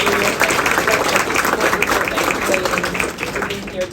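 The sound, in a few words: audience applause at conference panel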